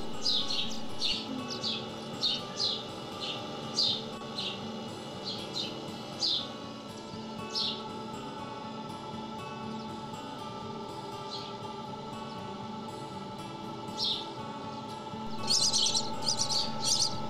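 Small birds chirp in short, high bursts, repeating on and off over a steady background hum, with a livelier flurry of tweets near the end.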